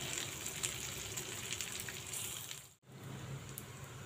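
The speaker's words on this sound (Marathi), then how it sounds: "मिरच्या आपण बारीक गॅसवर छान परतवून घेऊया" Green chillies sautéing in a pan over a low gas flame, a soft, steady sizzling hiss that is faint and continuous, with one brief dropout partway through.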